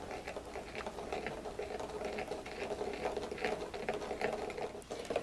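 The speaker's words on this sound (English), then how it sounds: "So what I do is I mix this right now." Turkish coffee is stirred in a small pot before going on the stove, producing a quick, steady run of soft scraping and clinking from the spoon against the metal, close and fairly quiet throughout.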